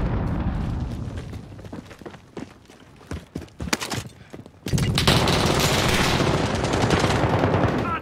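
Gunfire in a video game battle: scattered sharp shots and bursts, then a loud, sustained roar of heavy firing that fills the last few seconds.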